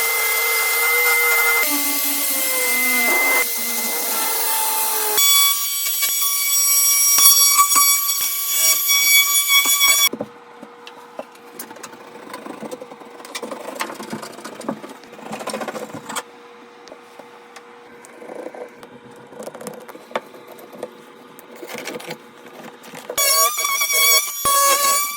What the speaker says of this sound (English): basically as I'm cutting this, I'm just going to hold my vacuum right underneath it and try to collect as much of that dust as I can